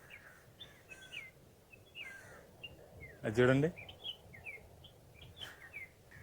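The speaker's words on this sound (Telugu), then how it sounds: "ఇక్కడ సౌండ్ చేస్తున్నాయి చూడండి పక్షులు" Several birds chirp and tweet at a middle distance throughout along a green roadside near South Goa beaches, with a brief spoken remark near the middle.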